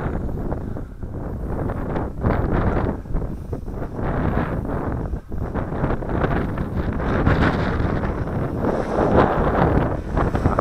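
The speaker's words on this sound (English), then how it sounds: "Just let the wind carry it. That's the wind." Strong wind gusting across an open field on a breezy day, roughly 15 mph, buffeting the microphone with a loud, continuous roar that swells and dips; a small quadcopter drone is flying nearby.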